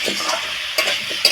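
Pumpkin pieces with potato frying in mustard oil in a kadai, a close, steady sizzle broken by a few quick stirring scrapes of a spatula against the pan.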